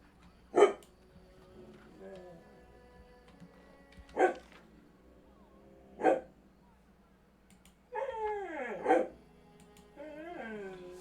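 A pet dog named Marco gives a few sharp, separate barks mixed with whimpering, yippy cries. The sounds are close by and come in short bursts with quiet gaps between them.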